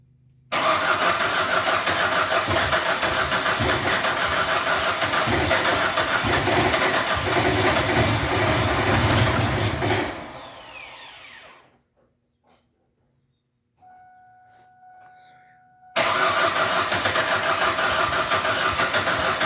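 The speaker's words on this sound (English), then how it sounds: "I got the Mazda started, and this is what it sounds like." A 1999 Mazda B2500 pickup engine, left sitting for half a year, cranks and runs loudly up close, then cuts out to near silence with a faint tone before the rough running resumes.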